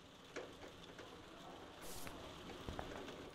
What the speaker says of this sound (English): And it's raining outside.